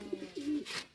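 Racing pigeons in a loft give a brief, soft, low coo, faint and close, with a rustle at the end and no voices.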